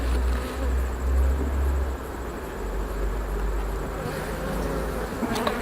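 Honey bees from an open hive during a fall inspection make a dense, continuous buzz close by, with a low rumble underneath in the first seconds and a few light knocks of the frames toward the end.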